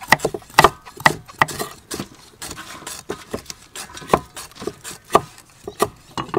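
A knife chops food on a board while a meal of grilled chicken legs and rice is prepared, giving sharp, irregular knocks, some in quick bursts and others spaced apart, close and clear.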